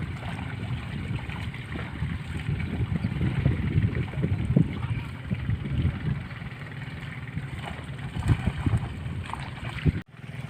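A motorboat engine runs on the water with a low, rumbling drone, steady over wind and water noise, fairly near, ending with a brief knock.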